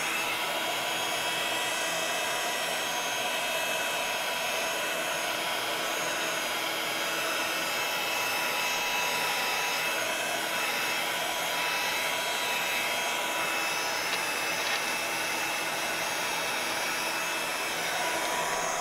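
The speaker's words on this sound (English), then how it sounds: "Next, I'm going to heat it again from the back because I really want that to be sticky." A heat tool blows steadily on the back of a craft piece to melt embossing powder, a constant loud whooshing roar like a hair dryer with no pauses, close by and alone.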